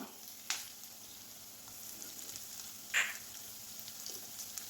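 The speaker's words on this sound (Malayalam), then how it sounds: "അത് ചൂടായി വന്നതിന് ശേഷം ഒരു പച്ചമുളക് ചെറുതായി കട്ട് ചെയ്തതാണ് അതിട്ട് കൊടുക്കാം" Green chili and crushed ginger-garlic paste frying in hot oil give a steady, soft sizzle throughout, with a few brief sharper crackles rising above it.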